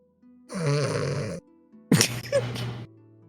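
A voice imitates two long, loud snores, harsh and rasping, delivered up close during a tabletop role-playing game session.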